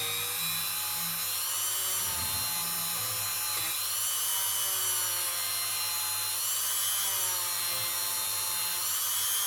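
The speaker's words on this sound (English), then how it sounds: "This is Quad Zero steel wool, or as near as damn it." Quad Zero steel wool scrubs fire scale off a coin ring made from a 200 lira coin, producing a continuous bright hissing, grinding rasp that stays close and even throughout.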